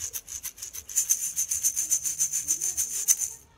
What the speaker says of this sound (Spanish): aquí yo tengo unos huevitos que se llaman shakers